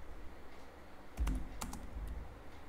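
Quick, uneven clicks of a computer keyboard during data entry of a native SQL query, close and fairly quiet, with a few louder clustered keystrokes and no talk.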